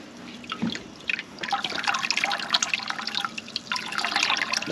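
Water rinses through and drips inside a DIY macroalgae reactor built for a Biocube 32 aquarium. A steady wet splashing runs close and moderately loud with irregular trickles, and no voices are heard.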